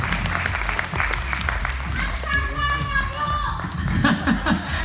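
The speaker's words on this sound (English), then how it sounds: "Can we please give these three ladies a big hand, round of applause?" An audience at a pageant crowning applauds for three event organizers, with dense clapping mixed with children's voices and chatter throughout.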